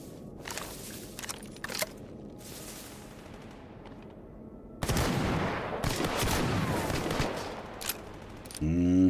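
Loud shotgun blasts in the STALKER GAMMA video game, a few sharp reports with rumbling tails amid forest ambience and footsteps, the heaviest burst coming in the second half.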